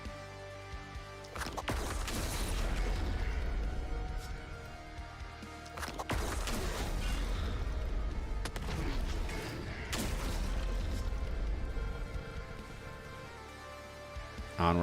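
Repeated explosions in the video game The Last Spell, several sharp bursts followed by long rumbling, crackling barrages like heavy gunfire and artillery, loud and close, with short lulls between waves.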